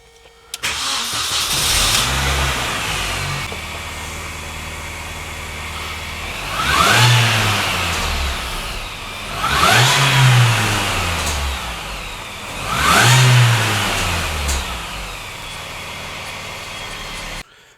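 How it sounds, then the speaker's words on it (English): An R53 Mini Cooper S engine cranks and catches, then runs at idle and is revved in three strong bursts that swell and fade, loud and close with no talking. "So why don't we try and see if the car starts?"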